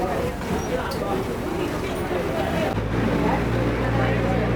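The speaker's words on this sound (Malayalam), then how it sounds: "അങ്ങനെ നമ്മളെ ബോട്ട് യാത്ര തുടങ്ങിയിരിക്കുകയാണ് കേട്ടോ" A Kochi water metro boat travelling from Menaka jetty toward Fort Kochi hums steadily, its engine drone deepening into a heavier, constant low throb midway, with a faint murmur of passenger voices beneath.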